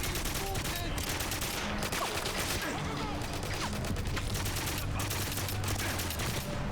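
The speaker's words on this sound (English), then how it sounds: "Let's go to the AK." AK rifle fire in GoldenEye 007 Reloaded: loud, dense automatic bursts crackle nearly nonstop, layered with other gunfire and impacts in a chaotic firefight.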